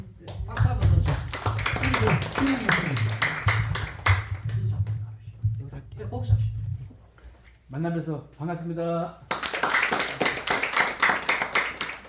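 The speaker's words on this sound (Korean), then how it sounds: "박수 한번 더 주세요" Congregation applauding during a Sunday church service, loud rapid clapping close by that fades out, breaks for a short spoken greeting, then resumes at full strength.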